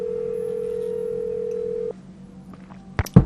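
In the Nancy Drew game The Final Scene, a telephone dial tone hums steadily for about two seconds, then cuts off, followed by a few faint clicks and two sharp bursts at the end.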